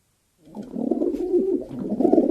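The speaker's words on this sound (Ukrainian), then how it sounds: "Це голуб." A recorded pigeon coos in a continuous low, throaty, rolling murmur lasting about two seconds, close and fairly loud, with no talk.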